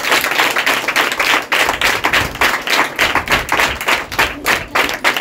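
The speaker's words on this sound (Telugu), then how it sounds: "just claps to the lord" A church congregation claps in a fast, steady rhythm of sharp, dense hand claps, loud and continuous throughout, with no talking.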